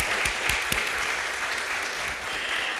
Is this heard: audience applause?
yes